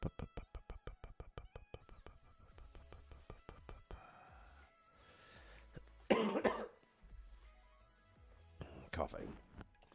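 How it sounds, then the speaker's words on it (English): A person coughs and clears their throat in a few rough bursts midway through, heard over a steady run of rhythmic clicking tones and background sounds from a game in development. "Coughing."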